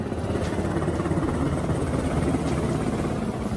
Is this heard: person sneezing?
no